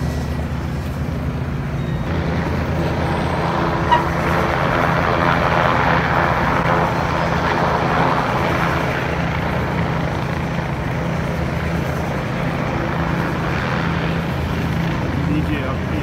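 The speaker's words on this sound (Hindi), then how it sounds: "हेलीकॉप्टर की लैंडिंग भी कैप्चर कर लिया आपके" Helicopter landing near the Manhattan ferry terminal, a steady broadband rotor and engine roar that holds throughout, mixed with outdoor ambience and people talking nearby.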